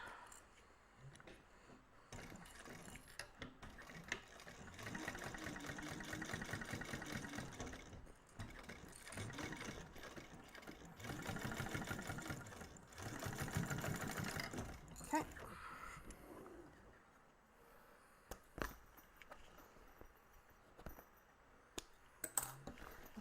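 Sewing machine basting a zipper-compartment seam closed on a Tumbleweed bag, whirring in quiet bursts of rapid stitching that stop and start, with faint handling clicks and rustles between runs.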